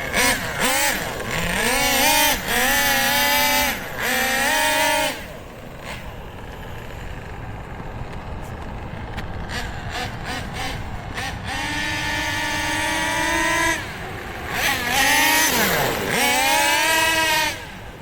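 An OFNA Titan Twin RC nitro engine fitted with a Track Stars turbo revs to full throttle in loud, high-pitched whining bursts, climbing and falling in pitch, with a quieter idling stretch in the middle.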